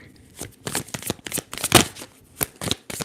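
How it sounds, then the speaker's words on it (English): Tarot cards are shuffled up close in a series of quick riffling and slapping bursts, crisp and fairly soft, with no talking. "Let's go ahead and shuffle and see what tarot card comes out"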